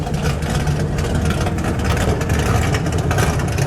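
A 1967 Dodge Dart 270 with a 273 V8 runs loud and close, a steady, dense rumble with a throbbing low idle and no voices over it.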